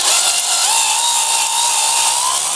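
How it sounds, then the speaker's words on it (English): A cordless drill fitted with a cleaning brush attachment whirs steadily at high speed during a Farmall tractor engine overhaul, its motor pitch rising slightly toward the end, loud and close with no voices. "So I like to use an attachment like this on the end of my cordless drill"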